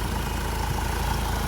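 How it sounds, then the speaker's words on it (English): A Honda CR-V i-DTEC diesel engine idles steadily with a constant low rumble and vibration, heard close up under an open bonnet with no talking. "turn the engine off."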